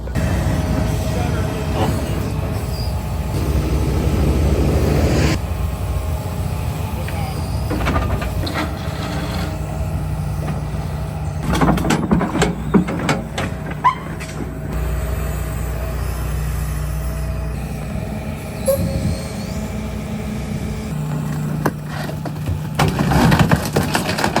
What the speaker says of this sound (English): got the John Deere getting in there, and we're gonna get the gravel out now and get down to the culvert right here